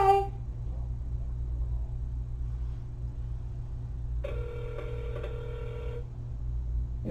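A phone line connecting through KV Core: a steady low hum, then a single electronic ringback tone sounds for about two seconds partway through, with a brief tone at the start and end, no talking.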